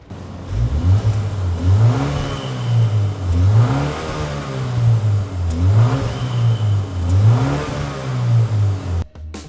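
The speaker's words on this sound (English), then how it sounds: "you have quad exhaust, that is 4 exhausts, and the best part is they are all functional" A Mini JCW Countryman All4 engine revs repeatedly through its four functional exhaust outlets, rising and falling in four steady swells of a mid-pitched growl, loud and close, cutting off abruptly near the end.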